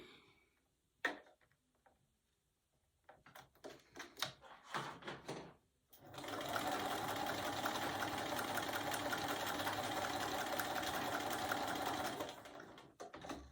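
After several seconds of scattered knocks and handling clatter, a sewing machine stitching a beginner scrap-fabric mug rug starts up and hums steadily for about six seconds before falling quiet.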